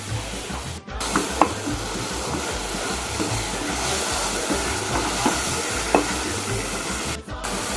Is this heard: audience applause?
no